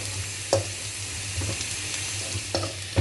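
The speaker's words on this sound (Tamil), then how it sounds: "இப்போது நெத்திலி கருவாடை நல்லா மிளகாத்தூள் போட்டு இதை பொறிச்சு எடுத்துக்கலாம்." Dried anchovies coated in chili powder fry in hot oil in a pan with a steady sizzle, broken by a few sharp stirring scrapes and clinks at close range, and no voices.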